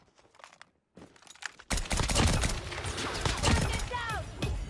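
Semi-automatic SKS rifle fire in the mobile shooter game Call of Duty Mobile crackles in a dense flurry of rapid shots after a quieter start, loud and close.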